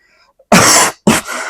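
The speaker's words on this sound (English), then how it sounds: "Sorry for the coughing." Two harsh coughs from a sick person, a long one followed by a shorter burst, close to the microphone with quiet before them.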